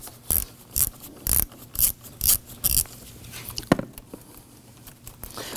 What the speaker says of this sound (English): Using a 10mm socket in your 1/4" ratchet,